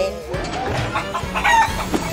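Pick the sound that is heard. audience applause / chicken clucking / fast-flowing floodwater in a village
chicken clucking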